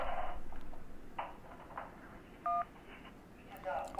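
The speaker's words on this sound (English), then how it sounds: "If you can't talk, please press any digit on your phone, okay?" A single short phone keypad tone beeps once during an emergency call in the 911 Operator video game, over a faint background hum and muffled sounds.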